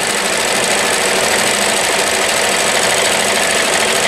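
A 1994 New Home Special Edition Model 108 sewing machine running at speed, giving a steady, dense mechanical whir that stays loud and even throughout and is heard up close with no talking.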